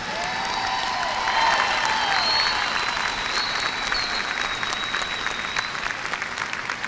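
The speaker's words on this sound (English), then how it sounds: "Ladies and gentlemen, please give a big round of applause for the mighty Martin High School class of 2017." Crowd at a high school graduation ceremony applauding the graduating class, a loud, sustained roar of clapping with faint cheers and whistles over about seven seconds.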